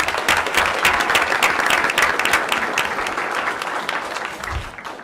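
An audience at a school board meeting applauds students, a dense, loud burst of clapping that runs steadily for several seconds before tapering off at the end.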